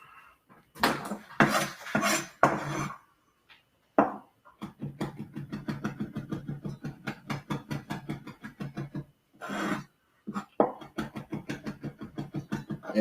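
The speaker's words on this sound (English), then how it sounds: "as I'm chopping these herbs, I'm keeping my fingers out of the way." A kitchen knife chops fresh herbs on a cutting board in a cooking demonstration, with short bursts of quick, even, close taps giving way to a long steady run of rhythmic chopping, then a brief pause and more chops.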